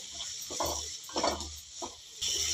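Masala for palak dal stirred in a pan, with a few soft scraping sweeps over a steady sizzling hiss.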